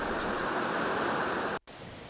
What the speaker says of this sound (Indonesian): Tingginya gelombang air laut hingga 2 meter ini mengakibatkan air laut pasang hingga ke pesisir pantai